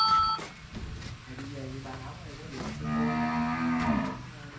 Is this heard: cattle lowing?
yes